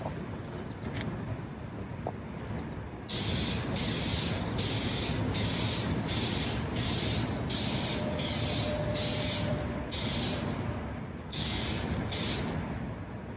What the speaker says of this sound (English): So here goes our first spray.